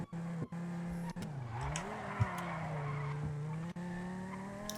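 Honda Civic tires skidding and squealing in a roleplay driving game, a loud sustained screech with a wavering pitch over steady engine drone, broken by a few brief cuts.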